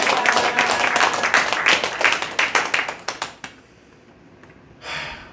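A church congregation claps together in dense, sustained applause that tapers into scattered claps and fades after about three seconds, leaving quiet room tone and a brief soft rustle near the end.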